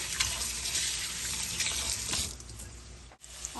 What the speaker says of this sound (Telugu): అటుకులు శుభ్రంగా కడిగేసుకోవాలి.